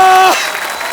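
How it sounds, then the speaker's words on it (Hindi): A studio audience breaks into applause right after a brief tonal sting, with the clapping continuing as a steady, close wash. "एक बार जोरदार तालियां बच्चा के लिए"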